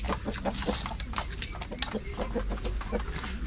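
Chickens are fed in a coop, clucking busily in quick overlapping calls that run through the whole stretch, close and fairly loud.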